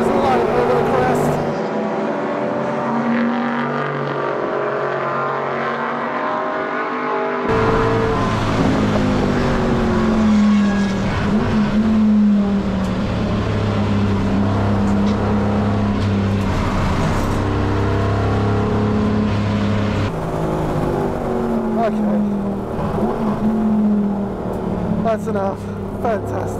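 A 1981 Group 2 Rover SD1 touring car at racing speed on a circuit, its engine roaring loud and close with sharp pitch rises and drops through gear changes and throttle lifts, wind and road noise mixed in.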